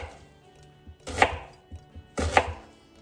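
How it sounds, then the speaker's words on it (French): A knife chops vegetables into small pieces on a board: two sharp, close chopping strikes about a second apart, with softer knocks between them and no talking. "Vous les coupez des petits morceaux ou sinon vous les passez comme ça au mixeur"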